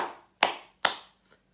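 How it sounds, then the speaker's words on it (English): Hands clap to clear a room's energy: three crisp, close claps spaced roughly evenly, each with a short ringing decay, alone without voices. "clearing the energy by clapping your hand"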